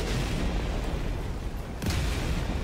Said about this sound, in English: I'm gonna go to sleep hearing explosions